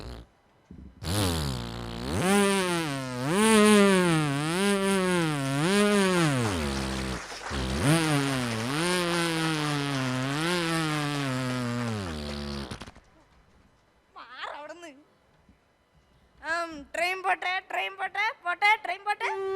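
A voice imitates a chainsaw felling a tree, a long loud revving buzz with rising and falling pitch lasting about twelve seconds, followed by scattered quieter vocal sounds.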